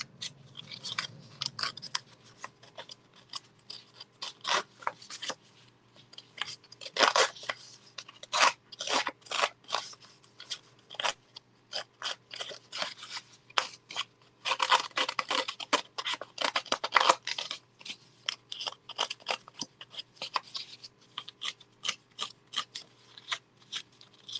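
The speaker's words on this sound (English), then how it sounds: "I'm just scratching up the sides of this." Irregular bursts of scratchy rasping as the sides of a cut-out craft piece are scratched up, with short pauses between strokes, close up and fairly quiet.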